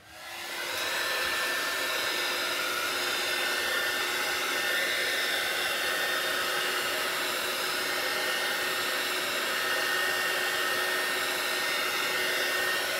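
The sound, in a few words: blowing air over thick resin with a dryer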